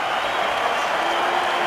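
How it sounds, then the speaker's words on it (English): Hockey fans in Montreal's Bell Centre applaud a saved shot during a Predators–Canadiens game, a steady, broad wash of crowd clapping and noise filling the arena under a broadcaster's commentary. "The fans will applaud that."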